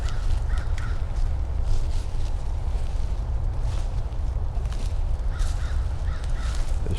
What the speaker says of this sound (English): Just can't seem to do anything out here without the crows accompanying the...